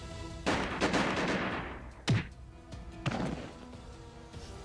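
Gunshots in a visual novel game as a group of mafia members open fire: several sharp, loud cracks spaced irregularly, each with a short ringing tail, close and alone without talk.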